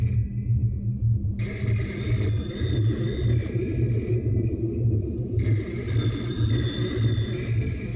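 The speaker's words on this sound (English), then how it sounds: "Okay, I guess we gotta go answer the phone." A phone in a horror video game rings in repeated electronic tones with short gaps, sounding fairly loud over a low droning, steady ambient background, with no one talking.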